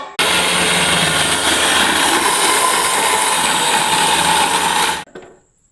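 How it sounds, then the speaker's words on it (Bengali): A wet grinder grinds soaked urad dal and rice for idli batter, giving a steady, loud, continuous motorized whir with a gritty churning texture that runs unbroken for about five seconds, then cuts off abruptly. "এই যে ধোয়া বিড়ির ডাল, উড়দ ডাল, এটা পিষে নিচ্ছি আমরা এখন"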